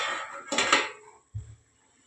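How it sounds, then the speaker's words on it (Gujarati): A metal plate clatters down as a lid onto a cooking pot of sponge gourd curry: a bright clanking pair of hits, then a soft low thud as it settles, followed by quiet. "તો ચાલો આપણે થાળી ઢાંકી દઈએ"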